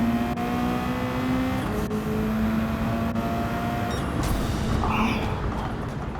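Race cars in the Gran Turismo 7 video game, including a Mercedes, with a steady engine drone and shifting pitch as cars run close together, continuous and loud throughout.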